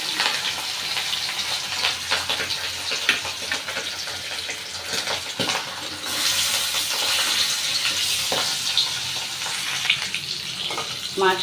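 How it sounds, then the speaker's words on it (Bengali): Hilsa fish pieces fry lightly in oil, a steady broadband sizzle running throughout with a brief stir-like scrape midway, close and moderately loud with no talking. "নাড়িয়ে এপিট ওপিট করে মাছটা হালকা করে ভেজে নেবো আমি"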